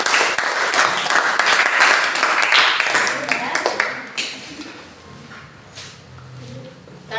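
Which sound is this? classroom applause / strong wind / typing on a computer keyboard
classroom applause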